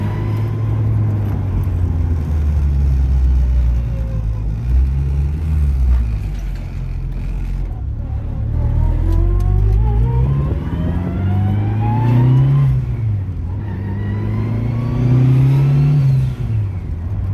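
A Honda Civic EM2 car engine, turbocharged and all-wheel-drive, revs and accelerates repeatedly under boost, pitch climbing through gears in loud, close sweeps, with no talking.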